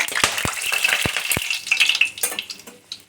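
Dry red chillies, cardamom, cinnamon and peppercorns fry in the oil left from browning potatoes for matar paneer, giving a steady close sizzle with a few sharp utensil clicks early on.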